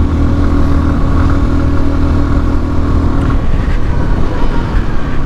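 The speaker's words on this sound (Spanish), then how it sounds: "¿Qué tal asciende la moto? ¿Cómo sube cuando nos enfrentamos a cambios de alturas?" A SYM NH Trazer 190i motorcycle engine labours steadily uphill, a loud, close, continuous drone with wind rush and no speech over it.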